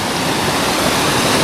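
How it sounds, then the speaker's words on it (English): A small stream flows down a hillside in North Wales, a close, loud, continuous rush of water with no voices. "Just a little stream, but it looks very pretty"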